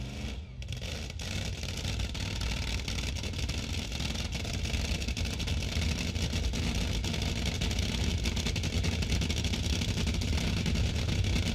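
A Top Fuel Funny Car engine fires up after a brief starter sound and runs at a steady, harsh roar that stays loud and unbroken with no talk over it.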